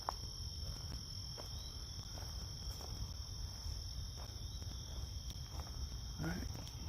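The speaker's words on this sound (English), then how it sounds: "got us some loud crickets going on over here or something" Crickets chirp steadily in the woods, a continuous high trill over faint ambient rustle, with a brief soft bird chirp near the end.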